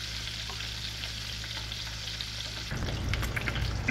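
Eggs frying in a pan, a steady loud sizzle throughout that grows fuller and crackles more in the last second or so, with no talking.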